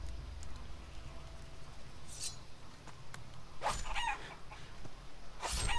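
A chicken in the video game Risen clucks and squawks in scattered sharp bursts over a steady low background hum, with no talking.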